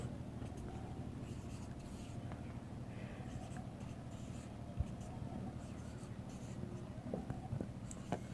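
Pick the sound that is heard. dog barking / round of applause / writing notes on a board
writing notes on a board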